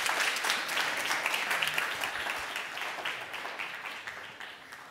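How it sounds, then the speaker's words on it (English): A forum audience at a sustainable tourism event applauds, steady dense clapping from many hands that fades slightly toward the end. "A round of applause for August again."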